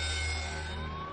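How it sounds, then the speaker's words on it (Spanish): An emergency siren wails steadily with a sustained rising tone, loud and close, with no voices. "Una ambulancia lleva a Mark al hospital."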